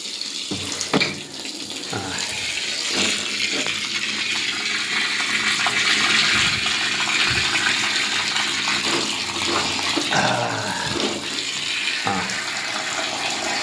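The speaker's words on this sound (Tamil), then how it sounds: "தேவையான அளவுக்கு தண்ணி விட்டுக்குங்க தேவையான அளவுக்கு நிறைய வேண்டாம் அளவாக" Water pours steadily into a VBM washing machine in a continuous loud rushing splash that lasts throughout, with no voices over it.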